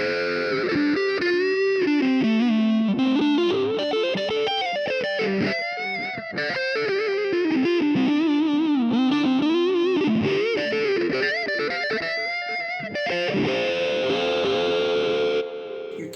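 Electric guitar played through the distortion pedal simulation of a Digitech RP355 multi-effects processor: a loud, continuous, heavily distorted riff with a chorus-like shimmer, lasting about sixteen seconds with no talking.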